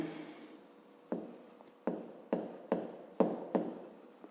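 A pen or pencil scratches out a maths solution on paper, with six distinct stroke bursts in an uneven rhythm over low room noise, close and fairly quiet.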